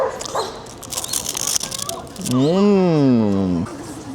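A big dog on a street in Harajuku, Tokyo, gives a drawn-out whimpering whine close by, rising and falling after a stretch of busy street noise and chatter.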